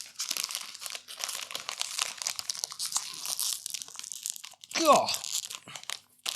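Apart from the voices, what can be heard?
crackers packet being torn open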